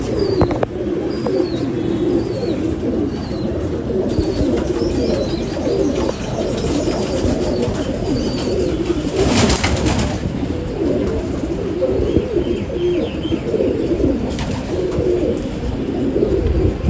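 Golden breed pigeons coo repeatedly inside a cage, a dense and fairly loud layer of overlapping low calls, with occasional chirps and brief wing flutters.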